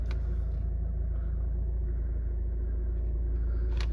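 A Mercedes-Benz A180d 1.5 diesel starting and settling into a steady idle, a low continuous rumble close by with a brief sharper click near the end, no talk.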